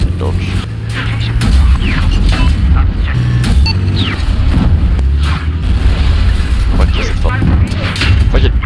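Rocket explosions in the video game Battlefield 2042, a dense run of loud booming blasts over constant battle noise, with excited talk throughout.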